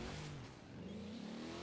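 A Chevy LS V8 engine in Forza Horizon revs up and down in a short burst, its smooth, slightly synthetic drone rising in pitch, with no talking.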